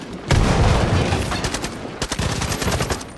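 Rapid gunfire bursts in Far Cry 5, including sniper rifle shots, crackling loud and close in quick succession with sharp echoing reports and little talk.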